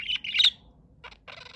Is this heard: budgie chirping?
yes